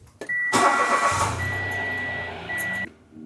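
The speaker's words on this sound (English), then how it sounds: "we're gonna start the engine" A Mitsubishi Mirage engine cranks briefly after an oil change, then catches and roars to life, idling loudly for a couple of seconds before cutting off abruptly.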